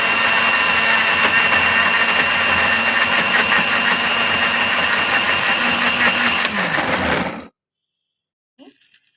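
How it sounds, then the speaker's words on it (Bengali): A blender runs loud and steady on boiled sauce ingredients salted to taste for Italian-style spaghetti, whirring continuously for about seven seconds before cutting off abruptly into near silence. "ব্লেন্ডারে এখন ব্লেন্ড করে নিব।"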